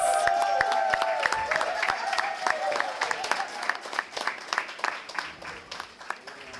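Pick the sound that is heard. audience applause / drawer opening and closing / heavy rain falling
audience applause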